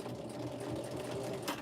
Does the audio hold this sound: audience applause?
no